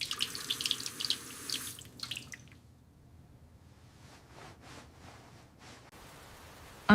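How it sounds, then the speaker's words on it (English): Tap water runs into a sink during face washing, a soft steady splash at first. It then fades to quiet wet squishing and dripping sounds close by, with a sudden clunk at the very end. "I am washing my face."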